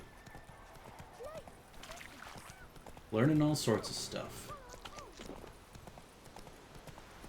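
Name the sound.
horse hooves galloping in video game The Witcher 3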